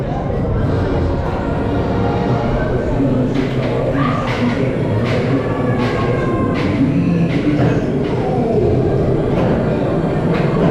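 A roller coaster train at Parc Astérix rolls past with a continuous rumbling roar and repeated clattering bursts, loud and close throughout.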